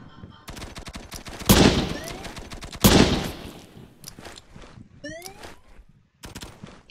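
Sniper rifle shots in the Poxel.io shooter game, two loud sharp blasts with rapid-fire bursts and clicks between them, heard over in-game sounds.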